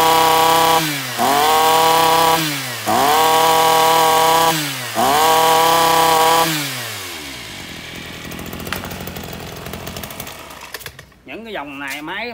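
A brand-new household petrol string trimmer engine revving in three loud, close bursts with brief drops between, then settling into a rougher idle, with talk heard over it.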